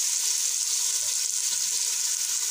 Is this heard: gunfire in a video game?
no